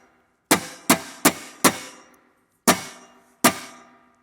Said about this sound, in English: A choke is when we use the left hand to mute and strike the strings with our pick.